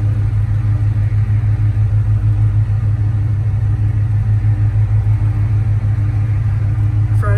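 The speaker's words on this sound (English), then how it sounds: "Jason from Auto Appraise finishing up a test drive on a 1969 Dodge Charger." A 1969 Dodge Charger pro touring car cruises through Friday-night Detroit city traffic, its engine giving a steady, loud low rumble throughout with no break.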